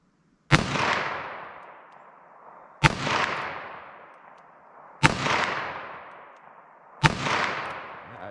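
A 3-inch revolver fires Winchester .22 Mag SJHP rounds at a target, four loud close shots spaced about two seconds apart, each with a sharp crack and a long ringing decay.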